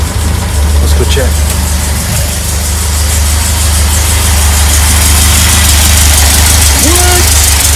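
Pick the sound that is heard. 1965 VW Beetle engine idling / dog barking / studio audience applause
1965 VW Beetle engine idling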